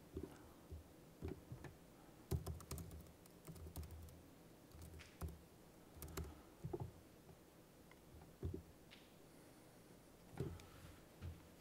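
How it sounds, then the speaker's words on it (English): Typing on a computer keyboard, a faint, scattered patter of key clicks in irregular short bursts with pauses between them, with no talk. "I'll just type it in"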